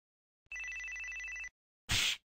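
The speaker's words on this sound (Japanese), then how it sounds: "あの机の上の携帯が鳴るのかな？" A mobile phone lying on a desk in a video game rings with one steady electronic tone lasting about a second. A short, loud noise burst follows after a brief gap.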